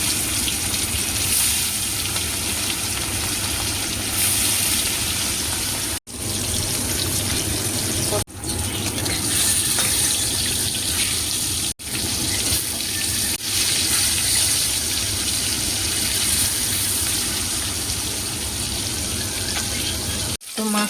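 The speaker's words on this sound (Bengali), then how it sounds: "দেখো তেলটা গরম হয়ে গেছে, মাছগুলো একদম হালকা করে ভেজেছি" Thick pieces of catla fish belly, rubbed with salt and turmeric, frying in hot oil in a home kitchen: a loud, steady hiss and sizzle that runs continuously, broken only by a few brief drops in level.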